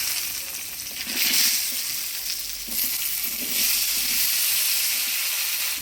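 Pumpkin pieces fry in hot oil with dried red chili and nigella seeds, giving a steady, loud, close sizzle with occasional swells as the pan is stirred, and no voices.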